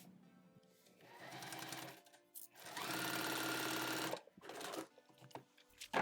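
A sewing machine stitches quilting fabric along a marked line in bursts, whirring steadily for a couple of seconds at a time with short pauses and a final quick run, close and fairly quiet.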